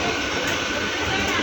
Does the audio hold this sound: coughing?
no